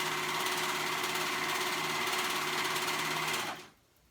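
A sewing machine stitches a tunic neckband through three layers of fabric, running loud and steady close by, then cutting off abruptly near the end.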